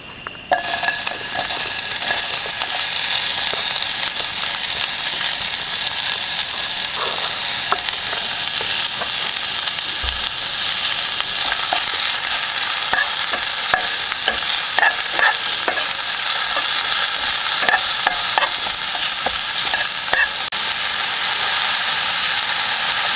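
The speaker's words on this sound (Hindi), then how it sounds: "ऑयल में मैंने डाल दिया थोड़ा बहुत लहसुन, लहसुन भी भुन चुका है ऑलमोस्ट। इसमें डालते हैं ऑनियन।" Chopped onion goes into hot oil with already fried garlic, giving a loud, continuous sizzle with frequent stirring and utensil scrapes against the pan, no talk, at a rainy night campsite.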